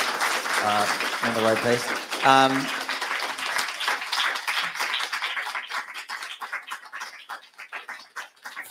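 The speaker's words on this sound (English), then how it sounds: "give them a little round of applause before I close off." A small audience at a talk on live reporting from Afghanistan gives a round of applause. It starts just after a short spoken line, swells briefly, then thins into scattered claps and fades out.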